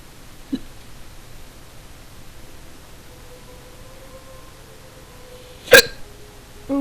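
A character in the video game Star Stable hiccups in a short, sharp burst with a second catch right behind it, loud against a faint, quiet background hum, with a lesser blip earlier on.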